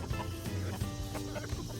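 Chickens clucking close by in a steady, busy stream of short calls, with low rustling and scratching underneath and no talking.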